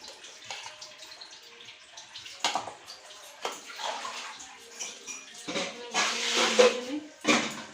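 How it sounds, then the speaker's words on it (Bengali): Dishes being scrubbed and rinsed under a running tap at a home kitchen sink, with splashing water, clattering plates and utensils knocking together in irregular bursts, close and fairly loud. "বাসনগুলো মেজে নিই"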